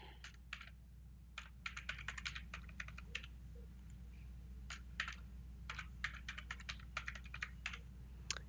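Quiet, close computer keyboard typing in quick irregular bursts of key clicks with short pauses, over a low steady hum.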